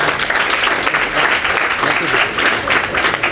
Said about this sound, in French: Mais applaudissez Bassirou.